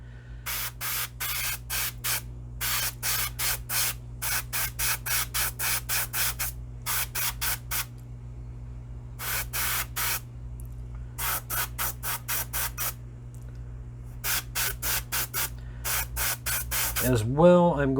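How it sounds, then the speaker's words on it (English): An airbrush spraying paint in short repeated hissing bursts while an air compressor runs with a constant low drone underneath; a brief tonal squeak or whine comes in near the end. "the compressor will go on and off during the video, so I apologize for the noise that it'll create."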